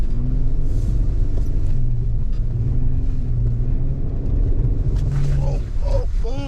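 A 4x4 climbs a hill through deep powder snow after a winter storm, its engine droning loud and steady close by with a low rumble and rising revs toward the end.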